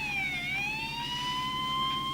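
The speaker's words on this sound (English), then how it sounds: "Ambulance." Ambulance siren wails steadily, a smooth rising and falling tone heard moderately close over low rumbling traffic, with no voices.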